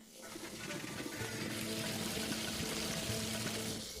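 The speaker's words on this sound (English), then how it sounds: "Rinse this seaweed and wring it dry." Water pours and splashes steadily as seaweed is rinsed by hand in a kitchen during Hakka cooking, a continuous close wash of running liquid with no talk.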